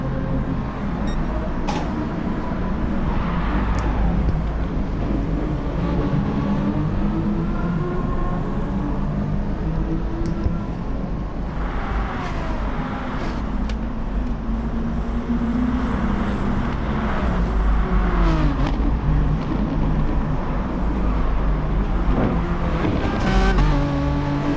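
Audi TT Gr.4 race cars in Gran Turismo Sport at Dragon Trail, a continuous dense engine drone with rising and falling gear-shift whines as several cars battle close together.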